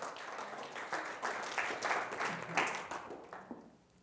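A church congregation clapping during a Sunday service, a few seconds of steady, moderately faint applause that swells and then dies away.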